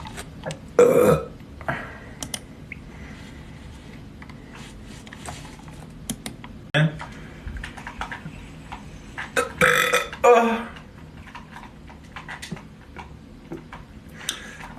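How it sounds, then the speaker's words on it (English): A young man burps on command after gulping water: a few loud, throaty belches spread apart, with quiet ticking and clicks in between and a brief murmur of voice. "Burp on command."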